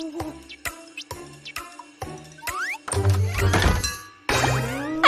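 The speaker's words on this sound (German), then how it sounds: "Jemand klopft an die Tür." Knocking on a door in a cartoon: a series of sharp, hollow raps spaced about half a second apart, mixed with bright ringing effects and a busier, louder burst near the end.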